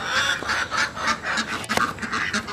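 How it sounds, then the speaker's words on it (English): Backyard chickens let out of their coop in the morning, with repeated clucking and squawking calls in bursts close by and no talk. "I'm letting the chickens out this morning."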